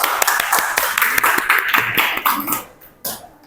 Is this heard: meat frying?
no